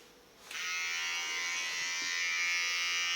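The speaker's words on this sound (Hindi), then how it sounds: "अब चलेगा मेरा ट्रिमर" An electric hair trimmer switches on for a head shave and runs with a loud, steady close-up buzz that holds to the end.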